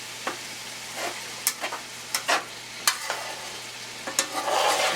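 Italian sausage and ground beef brown in a large skillet, a close, steady sizzle broken by repeated scraping and clacking strokes of a utensil stirring the meat.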